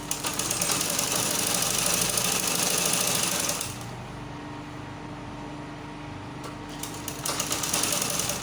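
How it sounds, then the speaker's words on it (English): A sewing machine stitching a petticoat hoop skirt for a ball gown runs at a steady fast whir, briefly slowing and quieting in the middle before speeding up again, close and continuous with no talk. "So I will sew like this."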